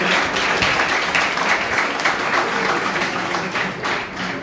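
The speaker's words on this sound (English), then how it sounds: "a big, big, big number of applause" Sustained applause from a large audience at a college Teachers Day talk, steady dense clapping filling the room for several seconds without letting up.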